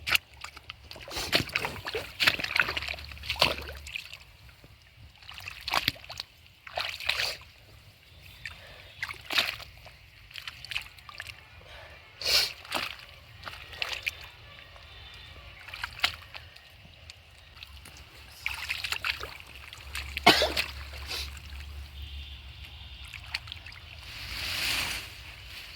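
Irrigation water sloshing and splashing across a potato field, arriving in irregular bursts and surges that rise and fall over a steady wet background, fairly close.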